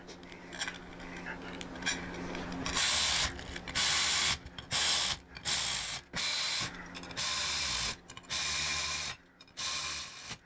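Bolts threaded by hand into a Harley-Davidson Softail floorboard bracket for chrome floorboards, heard as repeated bursts of loud ratcheting clicks separated by short pauses, with quieter mechanical rattling before them.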